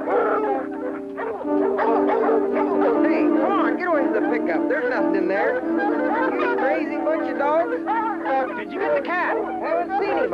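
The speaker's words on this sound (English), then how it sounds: "what is the matter with those dogs? They're crazy." Several dogs bark, yip and whimper excitedly in an old Walt Disney animated short about an ocelot hunt, a loud continuous chorus layered over background music.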